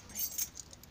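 Keys jangling in a hand, a short bright metallic rattle of a few clinks lasting under a second, close and moderately quiet.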